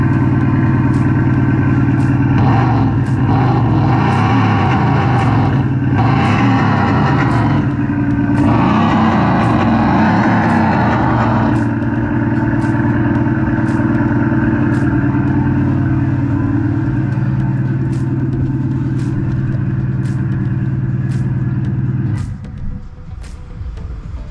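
A Maxhaust sound generator in a Mercedes S400d mimics a loud AMG V8 exhaust in sport mode with backfire settings, giving a close, continuous droning rumble with revving swells, then dropping abruptly near the end.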